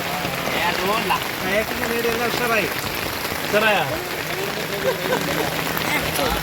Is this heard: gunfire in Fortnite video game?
no